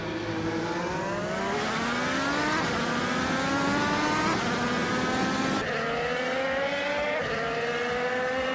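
Chevrolet IndyCar race cars racing: loud, continuous engine whine climbing steadily in pitch through the gears, with brief drops at each upshift, close and unbroken by any voices.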